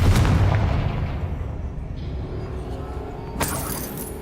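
A Confringo spell explodes in Hogwarts Legacy, opening with a loud blast and a crackling burst that fade into a rumbling tail, then a short bright flash of sound near the end; nobody talks.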